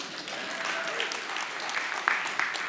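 A church congregation claps in steady, dense applause that sounds moderately distant and fills the whole stretch, with a faint voice murmuring underneath.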